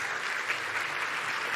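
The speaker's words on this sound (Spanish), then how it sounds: "Un aplauso, por favor, para Mark," Brief burst of steady audience applause at a science congress, close and even throughout.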